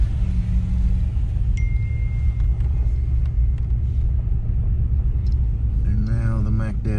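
A car with a swapped Ford Coyote engine idles with a steady, deep, close rumble throughout, while people talk over it.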